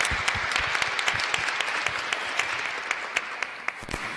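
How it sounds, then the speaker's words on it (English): Applause for the teams at a Datathon winning ceremony, a room of people clapping steadily with crisp individual claps close by, sustained throughout. "this is the time to applaud all the teams here"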